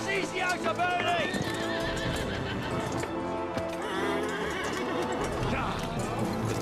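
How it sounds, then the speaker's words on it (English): Horses neigh and whinny amid clip-clopping hooves in a chaotic battle scene from Kingdom Come Deliverance 2, layered over game music and crowd noise, loud and continuous throughout. "Oh no, that poor horsey."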